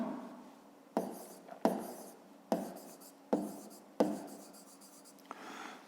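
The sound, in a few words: writing by hand in a school math exercise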